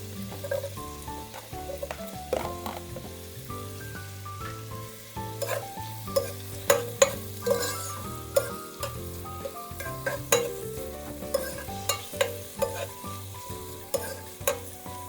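Onions and aromatics sautéing in a pan for ginataang isda, a soft sizzle under repeated spatula scrapes and taps that come in uneven bursts, close by, with a low tonal hum underneath.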